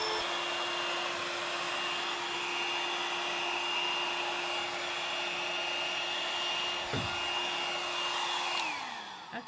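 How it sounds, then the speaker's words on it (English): A hairdryer blows steadily on wet paint for an art piece, a loud continuous whine and rush of air that holds nearly unchanged before it is switched off near the end. "I still haven't managed to mess up my new hairdryer"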